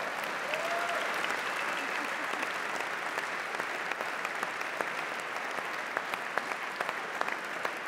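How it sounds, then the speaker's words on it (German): A large audience at a business opening event applauds after Lübeck is announced as prize winner, a dense, steady wash of clapping lasting throughout, moderately distant, with no voice over it. "Ja, der Applaus ist berechtigt."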